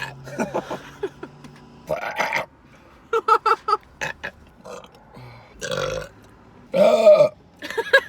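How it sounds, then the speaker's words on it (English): A series of loud, drawn-out burps follow one another in a montage with quiet gaps between them, some deep and croaking, some shorter and sharper, close to the listener. "You just do a montage of all the burps."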